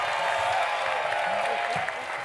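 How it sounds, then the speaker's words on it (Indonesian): Studio audience applause on the Indonesian family game show Super Family 100, a dense steady clapping wash filling the short moment with crowd noise beneath, no speech. "yuk tepuk tangan buat Chan"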